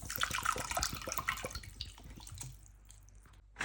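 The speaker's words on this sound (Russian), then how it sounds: "И заливаю это все водой." Water poured into a pot over beef tongue with onions, bay leaf, peppercorns and salt, splashing and trickling steadily at close range before thinning to a few drips and quiet near the end.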